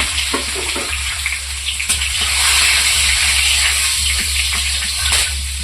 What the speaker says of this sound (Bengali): কড়াইয়ে এবারে তেল দেবো সর্ষের তেল গোটা গরম মশলা তেলের মধ্যে